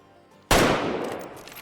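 A single loud rifle shot at a game animal in the hunting game Way of the Hunter, a sharp close crack followed by a long rolling echo that fades.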